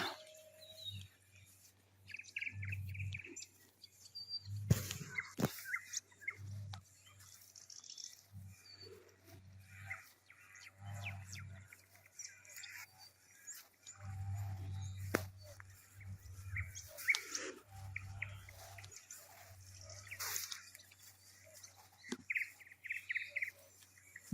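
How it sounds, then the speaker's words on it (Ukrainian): Birds chirp and sing outdoors near a river in overgrown countryside, scattered faint tweets over a low steady background hum, with no voices. "Дуже гарно співають птички."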